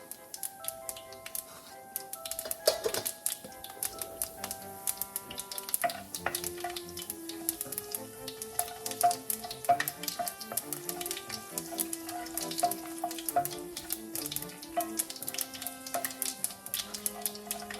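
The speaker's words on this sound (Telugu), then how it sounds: "ఆవాలు చిట్టుపట్లాడుతున్నాయి." Mustard seeds, cumin and fenugreek spluttering in hot oil for a Sorakaya bajji tempering give a steady crackle with scattered sharp pops throughout, over a soft tonal musical background.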